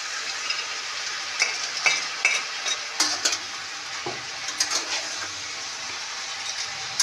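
Vegetables, drumsticks and lentil bori fry in a pan for Bengali shukto, with a constant bright sizzle broken by repeated scraping stirs of a spatula.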